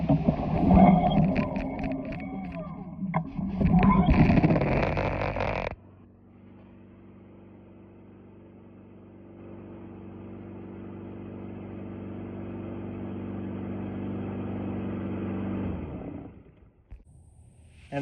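A Honda push mower engine starts up and runs loud for about five seconds after its carburetor is replaced, then drops to a steady, quieter drone that continues to the end.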